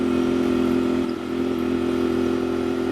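A Royal Enfield Bear 650 motorcycle with a shotgun high exhaust pipe hums at a steady, even drone while cruising, close and continuous, with light wind around it.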